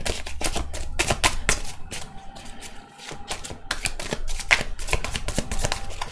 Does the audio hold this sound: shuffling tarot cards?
yes